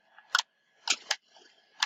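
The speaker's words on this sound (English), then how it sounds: "A bit of an explosion." An explosion in a vehicle video game where a bus gets blown up: several short, sharp bursts crack out in quick succession, moderately loud over a faint steady tone, with no talking.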